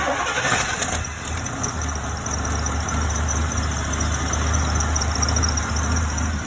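A big red truck's engine is fired up after a 93-inch belt is fitted and settles into a steady, close, low rumbling idle. Faint bird calls sound in the background.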